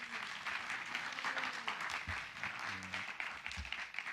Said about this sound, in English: Can I get another round of applause for Dr.